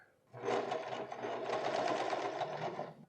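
A sewing machine stitches a seam on high-waisted pleated pants, running in one continuous steady whir for about three seconds, close and loud with no talking.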